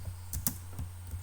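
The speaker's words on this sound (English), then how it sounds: "Now we can start typing like our textbook" Keys clatter on a computer keyboard during a typing lesson, a few quick close taps spread over a second or so, with no voice.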